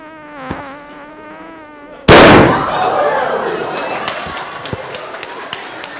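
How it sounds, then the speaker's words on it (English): A hydrogen gas explosion gives one sharp, loud bang, then a roaring rush that fades slowly, with scattered crackles after it; a voice speaks just before the blast. "It sounds kind of like a bomb coming down, doesn't it? We call this the hydrogen bomb."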